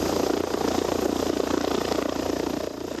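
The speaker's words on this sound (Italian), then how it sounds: "sul posto anche l'elicottero di Treviso Emergenza" An emergency rescue helicopter at a highway crash site on the A3 motorway toward Trieste, where trucks piled up, gives a steady, continuous rotor and engine roar that stays loud and unbroken with no talk over it.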